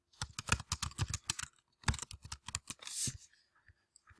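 Quick bursts of keystrokes on a computer keyboard, close and crisp, in two clusters separated by a short pause, with a brief scraping rustle near the end and no voices.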